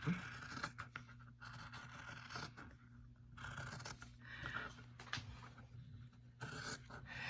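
Scissors cutting an egg shape out of appliqué fabric, quiet close snips and slicing strokes coming in irregular bursts with pauses between, against a low steady room hum and no talk.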